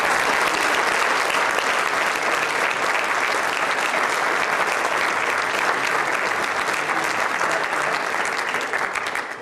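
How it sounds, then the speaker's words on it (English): An audience at a 2011 mayoral candidate forum applauds the eight candidates, dense sustained clapping from a sizable crowd that runs steadily throughout and fades slightly at the end. "Let's have a round of applause for our 8 Mayoral candidates."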